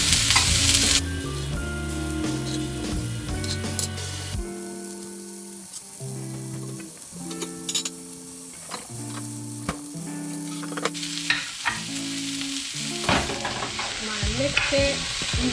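Eggs poured over broccoli and onions sizzle steadily in a hot pan for a breakfast burrito, with rhythmic scraping and stirring strokes over the continuous frying hiss and no talking.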